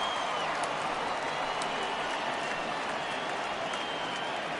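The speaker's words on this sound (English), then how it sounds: "he receives a nice ovation from this home crowd" A home crowd at a baseball game gives a steady, distant ovation to the departing starting pitcher, soft applause filling the whole stretch with a faint commentator-style voice underneath.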